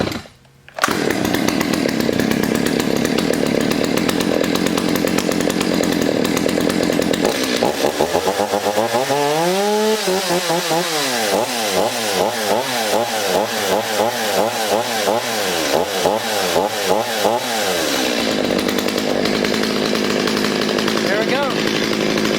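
A freshly restored Stihl 025 chainsaw starts and runs, its engine droning loud and close, revving up and down in rising and falling sweeps midway before settling back to a steady idle-like whine.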